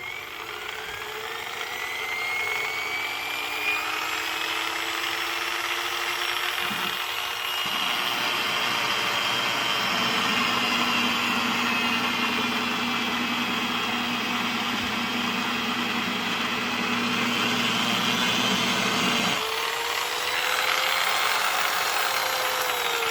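Harbor Freight DrillMaster 7 inch polisher running on its lowest speed setting, a steady close motor whine that holds for the whole stretch, with a deeper hum joining in the middle section and no talk.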